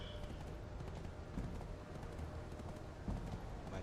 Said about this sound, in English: My trusty horse.